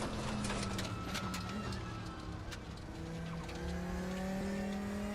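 Race car engine and transmission whine in the RaceRoom racing game, a steady loud drone with rising harmonic tones as the car accelerates through gears, continuous throughout.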